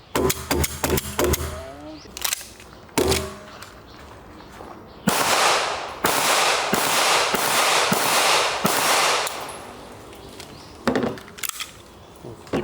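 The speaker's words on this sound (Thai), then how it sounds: "เดี๋ยวลองไปทดสอบกันที่สนามเลยดีกว่า ว่าใส่ตัวครอบนี้เข้าไปแล้วจะยิงดีเหมือนเดิมหรือเปล่า" Gunshots at an outdoor shooting range, fired through a red dot sight fitted with a Jager Work SRO protective cover: a quick string of sharp cracks, then a dense run of loud, closely spaced reports, then a few more shots.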